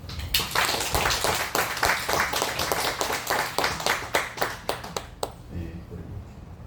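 Applause from a church congregation honoring a pastor and a leader rings out as a series of sharp, fairly quick claps that thin out and fade near the end, leaving a quieter tail with faint murmuring.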